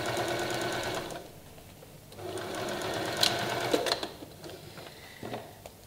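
A sewing machine stitching two pieces of a slanted strip bag together, a steady rapid mechanical whirring with brief pauses and small clicks, close up, with no speech.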